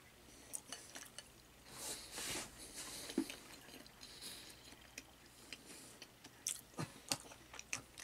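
Someone eats Korean-style carrot and beet salads during a mukbang, with soft, close, irregular chewing and crunching, occasional faint clinks of dishes or cutlery, and no talking.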